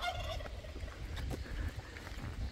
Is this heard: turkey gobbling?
yes